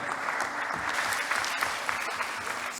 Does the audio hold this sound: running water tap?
no